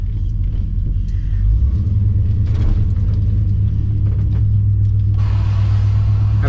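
A Chevrolet C10 square body truck rumbles while driving to a truck show, a loud steady low engine drone from inside the cab with shifting road noise.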